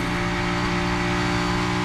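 A NASCAR race car engine roars steadily on track, a loud, close, continuous drone held at high revs throughout the short moment, with no talking.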